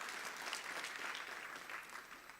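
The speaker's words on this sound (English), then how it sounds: "Please clap for her." An audience at a research conference applauds a participant, with steady, moderately distant clapping throughout.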